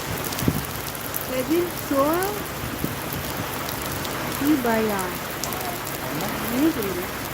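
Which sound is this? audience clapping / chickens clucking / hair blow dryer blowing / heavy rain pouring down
heavy rain pouring down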